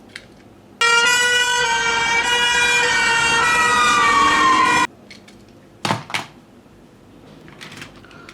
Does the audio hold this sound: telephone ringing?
no